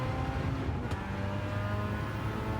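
A car engine short shifting during a Gran Turismo race, giving a loud, continuous engine drone with a steady pitch and a brief change in tone partway through, heard alone without talk.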